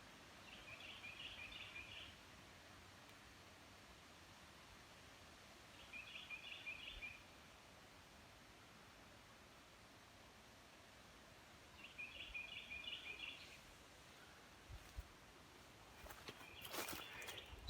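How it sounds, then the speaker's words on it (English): Short bursts of bird song come in three spaced-out phrases over quiet background hiss on a morning nature walk along the Natchez Trace, with a few soft rustles and footstep noises near the end. "The bird out there enjoying his morning."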